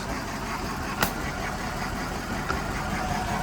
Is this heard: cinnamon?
no